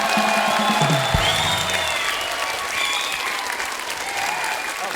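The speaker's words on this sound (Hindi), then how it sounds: "कृष्णा के लिए जोरदार तालियां।" Loud, dense studio audience applause on a television comedy show, a continuous roar of clapping with some cheering mixed in, holding steady at close range.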